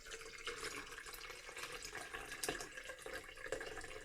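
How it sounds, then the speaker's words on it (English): Tea is poured into a bottle to make kombucha, giving a steady, faint trickling splash that runs without a break under low room noise and no talking. "I'm going to pour over the tea. So this is one flavor, which I'm going to pour it all here."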